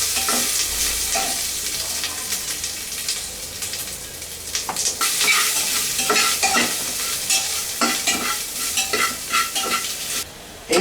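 Onion frying in a pan with paprika, chilli and salt, stirred steadily with scraping strokes over a continuous close sizzle; no talking.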